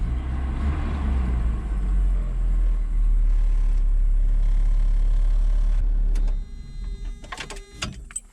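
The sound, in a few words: grandfather's truck engine running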